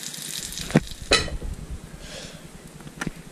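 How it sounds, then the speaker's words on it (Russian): Breaded meat patties sizzle in a frying pan, a soft, steady crackle close by, broken by a couple of sharp clinks from utensils or the pan near the start and a faint tap toward the end. "Выложить на сковороду и обжарить с двух сторон."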